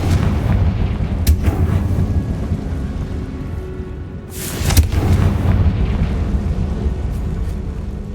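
The Confringo blasting spell in a video game detonates with deep booming blasts, a sharp crack early on and a larger explosive burst in the middle, over a constant rumbling low-end background.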